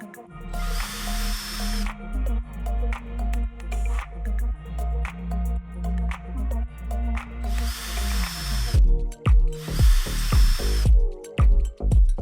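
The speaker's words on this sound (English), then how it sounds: "mount both brackets using the included screws and tighten them until the brackets feel solid" A power drill drives screws into roller shade mounting brackets in repeated short whirring bursts, then a few longer high-pitched runs, with clicks and handling noises between them.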